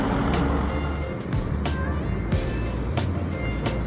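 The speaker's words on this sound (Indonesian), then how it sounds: "Ini dia ada bus Harapan Jaya datang dari Surabaya dan langsung berangkat ya menuju ke arah Tulungagung." A Harapan Jaya bus from Surabaya pulls out of Tamanan bus terminal in Kediri. Its engine rumbles loudly and steadily up close, with terminal bustle and brief sharper sounds over it.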